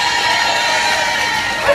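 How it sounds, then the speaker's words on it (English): A crowd cheers at a badger cull protest march in Birmingham, a loud, sustained, massed roar of voices and whoops. "ask for a big cheer"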